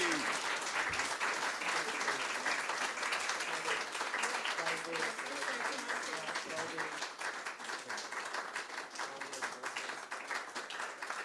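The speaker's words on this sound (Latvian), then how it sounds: "Liela aplausi!" An audience at a science teachers' day event applauds steadily, with dense clapping that carries on for several seconds and fades slightly toward the end.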